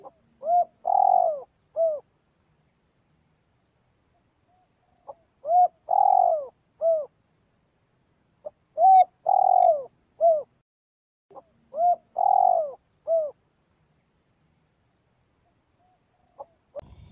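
Spotted doves coo in repeated phrases during harvest season in a rice field, each call a soft, rounded series of low notes, heard in several separated bursts with quiet gaps, fairly close and clear, no talking.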